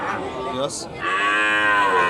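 Cattle at a market, likely including Jersey crosses, give a long, loud, close moo that rises and falls across the whole moment, with a brief rustle in the middle.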